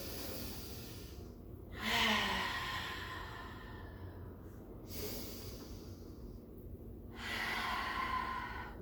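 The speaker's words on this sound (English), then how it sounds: "Inhale in through the nose, exhale, open mouth, release" Deep breathing during a pilates session, slow audible inhales through the nose followed by breathy open-mouth exhales, repeated in a calm rhythm, close and soft with no speech.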